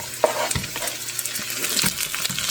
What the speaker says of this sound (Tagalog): nag-golden brown na yung garlic natin. So, lagyan na natin yung onion.